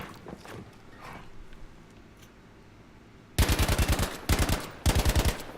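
A full-auto gun emptying its magazine on a Battlefield V shooting range: three loud, rapid bursts of close shots, each a quick run of evenly spaced cracks, after a quiet lead-in.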